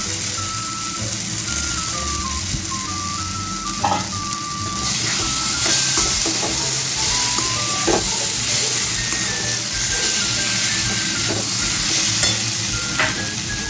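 Fried potatoes sizzle loudly in well-cooked masala for chickpea ghugni while being stirred, with a constant hiss, occasional spoon scrapes, and a string of electronic beeping tones running underneath.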